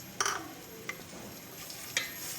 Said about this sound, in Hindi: अब इसको मैं फ्राई करूँगी।